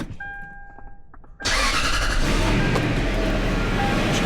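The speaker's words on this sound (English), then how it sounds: "We're gonna go ahead and start it and let it run for a couple minutes just to make sure that nothing's leaking." Lexus car engine started after an oil change, with brief quiet mechanical chimes and clicks, then the engine catching abruptly into a loud, steady running rumble, heard close.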